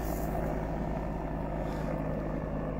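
A helicopter passes overhead, heard as a steady, fairly faint, continuous engine and rotor drone with no other sounds standing out.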